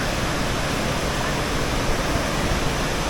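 Water rushing at Aling Aling waterfall near Lovina in Bali: a loud, dense, steady roar of falling water with no break or voice over it.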